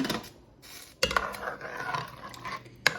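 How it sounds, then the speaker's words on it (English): A utensil stirs fish stew with white wine in a cooking pot, giving close scraping and clinking against the metal with a couple of sharp knocks and no talk. "add in our white wine. Give that a stir."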